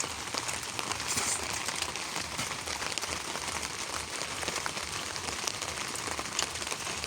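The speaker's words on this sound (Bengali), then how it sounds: "এই যে বৃষ্টি পড়ছে আমরা খাবার খাচ্ছি" Rain falls steadily at night, a dense, constant patter on surfaces heard up close with no talking.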